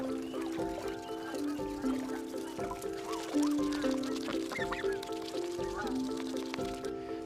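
Geese swimming past in an aviary, giving repeated honking calls in steady overlapping bursts, fairly close, with faint background noise and no talk.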